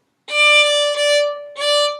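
A violin plays one sustained note with three bow strokes in minuet bowing, a longer down-bow then two shorter up-bows, in a clear down-up-up pattern, as in the first measure of Minuet 1.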